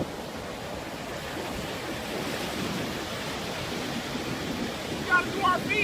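Pacific Ocean surf along the San Francisco shore, a steady broad wash of waves rolling in close by without a break.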